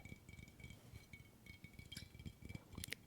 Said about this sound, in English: This container is made of glass.